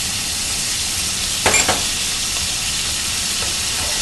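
Chicken livers and onions fry in a pan with a steady, close sizzling hiss, broken by a brief clatter about a third of the way in.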